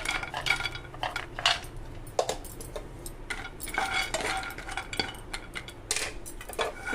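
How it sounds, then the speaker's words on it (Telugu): Almonds fried and stirred in a pan, a busy close-up run of spoon scrapes and clattering nut taps against the metal, steady throughout with no voices. "బాదం పప్పు కూడా ఫ్రై చేసుకుందాం సరిపోతుంది బాదం పప్పులు కొన్ని"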